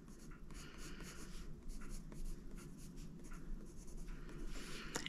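Oil-based Faber-Castell Polychromos pencils lightly coloring a drawing of glass, a continuous soft scratchy scribbling with short strokes, with a voice talking over it at times.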